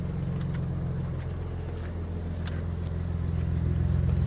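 A BMW barn-find car engine runs steadily at idle close by, a continuous low, even drone with no voices over it.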